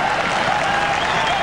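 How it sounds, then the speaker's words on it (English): A large crowd at a 1990 AFL State of Origin football match between Tasmania and Victoria roars and applauds a goal in a steady, dense wash of cheering. "The crowd likes it, and so does the goal umpire."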